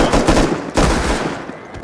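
Pistol shots in the survival game Rust, a couple of loud, close bursts of shots with short gaps between them, then fading echo.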